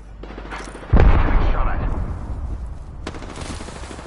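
Close, loud gunfire in an Apex Legends match: a heavy opening blast followed by a rattling automatic burst, then a second burst of shots after a short pause.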